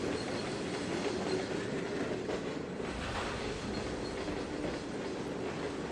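Simulated train rolling along in the railway game Trainz 2022, a steady loud rumble with wheel clatter and hiss running continuously throughout with no voices.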